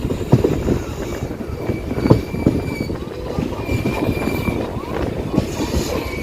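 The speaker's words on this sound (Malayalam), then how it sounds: "ഇപ്പോൾ കണ്ണൂർ ബംഗളൂരു എക്സ്പ്രസ് ഇവിടത്തേക്ക് എത്തി." The Kannur Bangalore Express passing in Kerala near Kanhangad, a loud, close rumble of rail wagons with rhythmic clatter and thin wheel squeals running steadily throughout.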